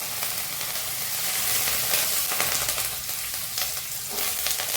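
Fresh curry leaves hitting hot oil, a loud close-up crackling sizzle that spits and hisses continuously, with stirring and no talking.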